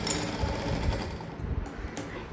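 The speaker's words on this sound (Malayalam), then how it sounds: "ഇതേ അങ്ങനെ സ്റ്റിച്ച് ചെയ്തപ്പോൾ കണ്ടോ ഈ രണ്ട് സ്റ്റിച്ചുകളും സ്ട്രൈറ്റ് ആയിട്ട് വന്നിട്ടുണ്ട്" A sewing machine stitches fabric with a fast, steady mechanical chatter of the needle, loud and close, the rapid rhythmic pulsing running throughout with a slight change in pace toward the end.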